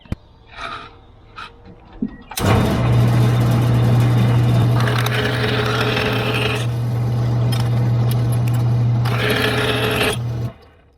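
A power cutting tool slices through battery bus bars, starting after a couple of seconds of light handling clicks, then running as a loud steady whine for about eight seconds before stopping.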